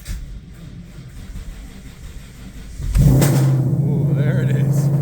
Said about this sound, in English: So I'll bring you guys along for the cold start here.